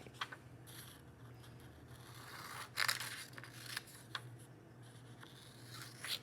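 Several short crisp snips and rustles of scissors cutting paper, fairly close and quiet, irregular over a low steady hum.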